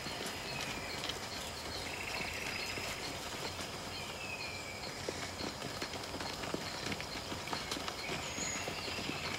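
Horse hooves clip-clop in a steady, dense rhythm at moderate distance, continuing evenly for several seconds over a faint wash of background noise, with no talking.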